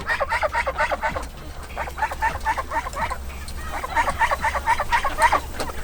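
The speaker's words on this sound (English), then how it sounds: "Hear that, Mr. Goose?" Free-range farm geese honking close by in repeated fast bursts of several harsh calls each, with short pauses between groups.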